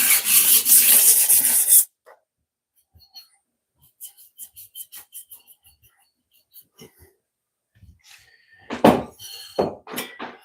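Sandpaper rasps against a pottery piece in a strong, steady rubbing burst for about two seconds, then falls quiet; short soft scrapes and handling taps follow, and a person speaks near the end.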